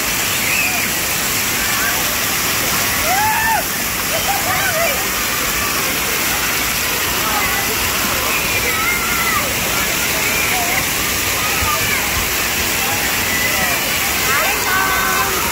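Waterfall at an island park, a loud, constant rushing roar of falling water close by, with children's voices and calls heard over it.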